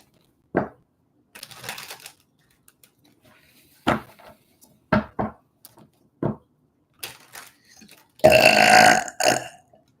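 A person burps repeatedly during a live psychic reading, a series of short, loud, irregular belches separated by quiet pauses, ending with a longer, louder burp.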